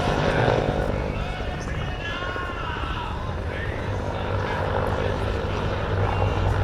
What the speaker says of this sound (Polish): pojedynczy silnik turbo Lycominga